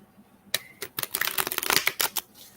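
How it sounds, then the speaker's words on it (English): A tarot card deck is shuffled by hand in quiet surroundings, a soft flurry of crisp riffling card snaps lasting about two seconds, close and fairly faint. "Let me shuffle a couple more times and cut the deck."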